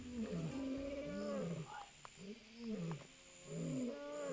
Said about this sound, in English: we're hearing a lion vocalizing